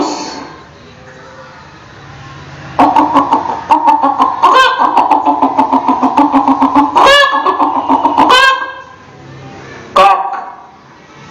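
A rooster crows in a long, loud, wavering call close by, preceded and followed by short squawks and clucking sounds.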